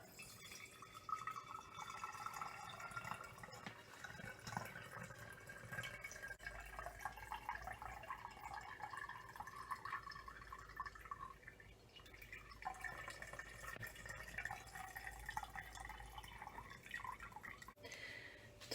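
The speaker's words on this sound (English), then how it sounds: "Right, and I'm going to strain it off." Homemade soap nut laundry liquid strained through a cotton cloth drips and trickles quietly and steadily, a faint soft patter of liquid falling into a container with no talk.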